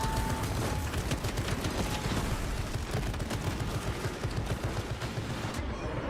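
Rapid, continuous turret gunfire from a video game Space Marine battle, a dense rattling stream of shots running nearly unbroken throughout, loud and close, with no talk over it.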